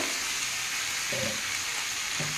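Malabar spinach (pui) fries in a hot pan, making a constant, fairly soft hiss of sizzling with two brief low thuds or scrapes as the leaves settle and shift.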